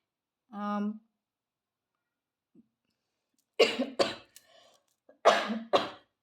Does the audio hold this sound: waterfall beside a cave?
no